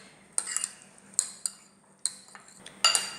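A spoon stirs buttered corn with butter in a bowl, giving several irregular sharp clinks and scrapes against the dish, close and fairly quiet with no talking.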